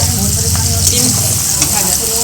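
Green beans fry in a kadai, a loud, close, steady sizzle with occasional stirring scrapes, while voices murmur in the background.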